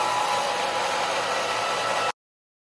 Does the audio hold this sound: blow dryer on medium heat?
yes